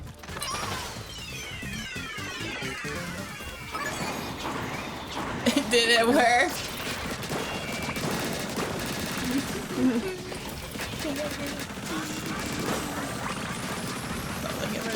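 The crab tank in Splatoon 3 smashes forward and fires, a dense chaotic mix of rapid rattling shots, crashing impacts and game effects, with a person talking over the action.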